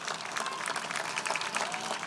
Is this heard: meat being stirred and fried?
no